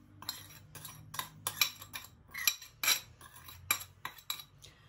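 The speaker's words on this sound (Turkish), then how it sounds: "Bu şekilde koymuş olduğum sosla şöyle bir karıştırıyorum." A utensil stirs potato salad dressed with sauce in a wide bowl, giving a close series of quiet scraping clinks and taps against the dish in an uneven rhythm, with no talk.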